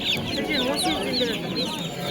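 Chickens cluck in chirpy bursts throughout a busy poultry bazaar in Karaozek, over a steady murmur of crowd noise.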